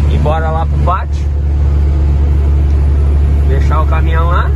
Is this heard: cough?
no